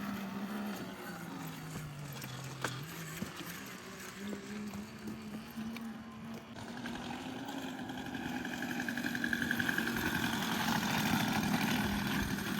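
A weed whacker engine mounted on a pedal bike runs steadily with a low droning note that swells louder and busier toward the end as the throttle opens, heard close by with no talk.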